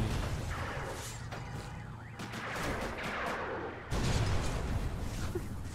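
Incendiary ammunition fires in the Project Landsword video game, dense crackling bursts and booms over a rumbling bed, with one sharp loud burst near the end.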